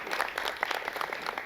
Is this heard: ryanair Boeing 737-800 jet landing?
no